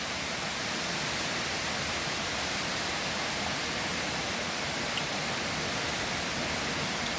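Heavy rain falls in a steady, dense hiss that holds at an even level throughout, with no voices over it.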